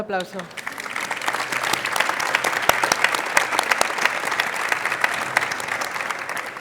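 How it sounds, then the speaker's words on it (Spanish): Conference audience breaking into applause after a talk on artificial intelligence in business, clapping building quickly into a thick, sustained roar of many hands that stays loud to the end. "Un aplauso."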